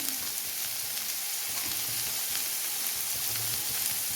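Curry leaves and sliced onion crackle and sizzle in hot oil in a pan, a close, continuous frying hiss throughout.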